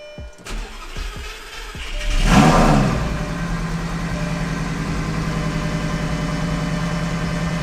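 A 2019 Chevrolet Corvette engine cranks, catches with a loud revving flare, then settles into a steady, close, rumbling idle, with no talk.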